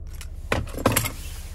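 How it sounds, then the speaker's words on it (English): A Ford Explorer key fob with remote start jingles on its keys in a couple of quick metallic jangles, close and brief, with no talking. "Here's the key fob with remote start."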